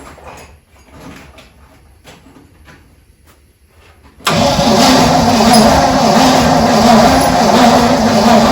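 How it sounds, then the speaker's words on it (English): A 1959 Corvette that sat for 30 years cranks and catches: quiet faint sounds give way to a sudden loud engine start halfway through, then a steady, rough running roar close by. "then you're ready to turn the engine over"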